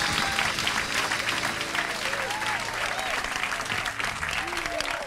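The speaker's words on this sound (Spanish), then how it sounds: "Fuerte el aplauso para Mark Lenders!" Studio audience applause on a Spanish-language television variety show, loud dense clapping with some cheering and whoops throughout, fairly close and steady.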